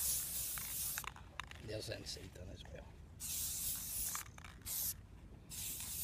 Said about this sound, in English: standard spray paint